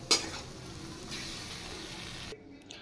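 Spices sizzling and frying in a pan before being ground into a paste for an egg curry: a steady, close crackling sizzle with a brief stir at the start that cuts off near the end.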